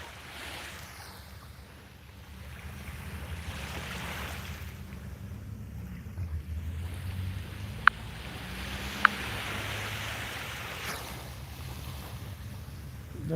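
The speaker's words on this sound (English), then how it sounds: "I hear a boat out there somewhere." A boat motor hums low and steady somewhere out on open water, distant and continuous beneath wind, lapping waves and a couple of sharp clicks.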